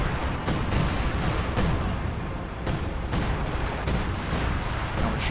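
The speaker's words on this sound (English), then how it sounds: "Assault artillery falling in this sector kills a couple conscripts." An artillery barrage falls in a World War II strategy game: a steady, dense rumble of distant explosions, punctuated by repeated sharp blasts spaced roughly half a second to a second apart.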